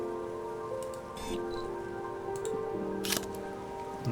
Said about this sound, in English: And left click for the shutter.